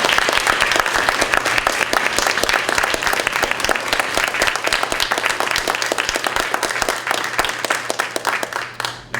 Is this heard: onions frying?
no